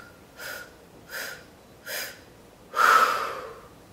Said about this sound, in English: the breath is 4 counts in and 1 count out through a rounded mouth